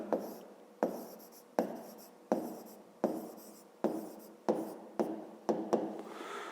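A pen writing by hand in a notebook during a fifth-grade maths exercise: eight or nine scratchy strokes repeat at a steady pace, close and quiet, with no talk.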